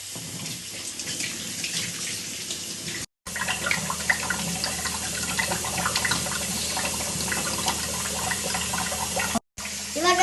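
Kitchen tap water runs steadily into a sink while a knife is rinsed, a continuous close splashing rush broken by two brief silent cuts.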